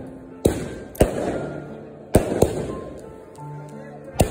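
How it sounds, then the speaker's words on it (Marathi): Fireworks burst after an evening aarti at a festive celebration: several sharp, loud cracks and booms in an irregular sequence, each trailing off, over a steady crowd murmur with voices in the background. "आरती झाल्यावर फटाक्यांची आतषबाजी करण्यात आली"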